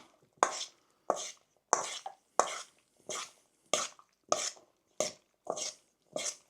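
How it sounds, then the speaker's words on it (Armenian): A spoon works through a bean salad with honey-mustard dressing in about ten evenly spaced, wet scraping strokes, each a brief close swish against the bowl, with silence between. "Պետք է մեր նորից էլի հավեսին խառնել։"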